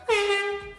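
An air horn sounds in a TV studio as one loud, steady, brassy blast that lasts just under a second and stands alone.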